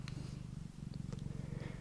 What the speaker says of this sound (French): Et elle ronronne, elle ronronne, elle ronronne.